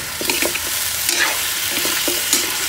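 Chicken feet sizzle and fry in a pan while being stirred, with a bright continuous crackle and several soft scraping stirs, close and loud with no talking.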